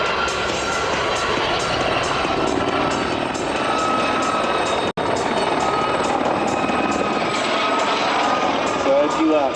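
A Lynx helicopter performing aerobatics, including a loop, at the 2004 Biggin Hill airshow, its steady rotor and engine roar loud and continuous throughout, with a faint crowd murmur underneath.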